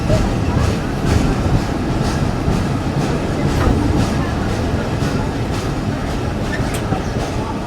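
The Mongla commuter train rumbles at Chulkathi Bazar railway station, a loud, steady rolling roar of wheels on rails with faint rhythmic clicks running through it.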